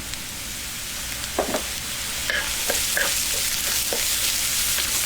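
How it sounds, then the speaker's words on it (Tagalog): Two large chopped onions and garlic sauté in a pan for chicken sisig: a constant close sizzle with scattered scraping and tapping from stirring, growing slightly louder partway through, with no voices. "Simulan na po natin mag-gisa."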